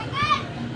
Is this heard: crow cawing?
no